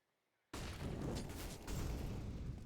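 Grenade and Molotov explosions in Counter-Strike on the Inferno map during a competitive esports match, a loud dense burst of fiery roaring and crackling that starts abruptly after a short silence and sustains throughout.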